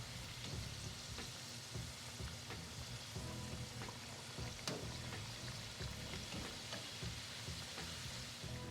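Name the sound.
cream cheese wontons deep-frying in oil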